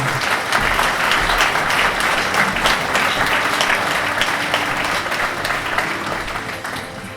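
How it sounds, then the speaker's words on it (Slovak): Continuous applause from an audience at a village-of-the-year award ceremony for mayors in Budmerice, a dense clapping that holds steady and fades slightly toward the end. "Samozrejme, privítajte potleskom."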